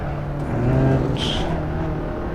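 Race car engine at full throttle in the Assetto Corsa racing game during a training session, a steady, loud droning roar with tonal harmonics and a brief high whine partway through.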